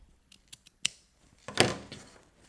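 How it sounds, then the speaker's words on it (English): Scissors cut bunting fabric in a quiet room: a few light snips, then one louder, longer slicing cut, close to the microphone with no speech. "So then I'm going to cut off around about 1/4 inch."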